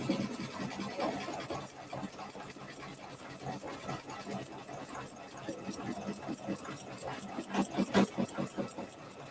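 Domestic sewing machines stitch on a quilted winter landscape organizer, a steady mid-pitched motor whir with fine needle chatter that pulses and speeds up in short bursts, fairly close and moderately loud, with no voices.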